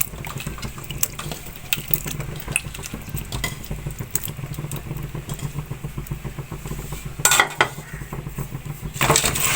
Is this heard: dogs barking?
no